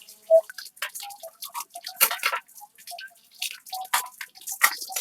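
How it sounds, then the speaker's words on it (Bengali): Small gulsha fish fry in oil in a wok, giving quiet, scattered pops and crackles at an uneven rhythm, with no one talking. "গুলটা মাছ গুলো দিয়ে দিচ্ছি, একটু ভাজা হোক।"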